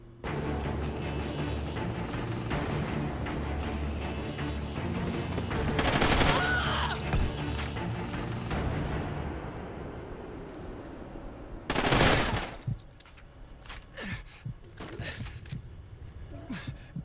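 Suppressed MTAR-X fire in Call of Duty Ghosts on the flooded map crackles in rapid bursts over steady game ambience, with a loud sharp blast midway and a few scattered shots toward the end.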